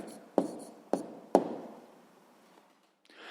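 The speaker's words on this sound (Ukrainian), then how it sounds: "Записуємо відповідь" A pen writes an answer on paper during a sixth-grade maths exercise: three sharp taps against the page, followed by quieter, fading scratches and a brief rustle at the end.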